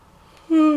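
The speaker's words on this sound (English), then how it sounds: "Oh, yawning again." A man's yawn, a short breathy onset that turns into a loud, sustained voiced groan with a steady pitch, heard up close alone at the end.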